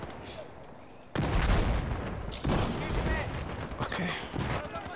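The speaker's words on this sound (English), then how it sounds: "Oh, that's a grenade." A grenade detonates in a video game with a heavy, booming burst, followed by further blasts and rumbling impacts in quick succession while a player talks.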